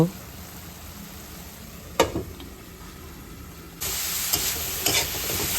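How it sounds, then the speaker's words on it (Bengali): A small amount of spinach or radish greens sizzling in a pan, a soft steady hiss that grows louder near the end, with a couple of sharp utensil knocks. "একদম ভাজা ভাজা করে নিচ্ছি।"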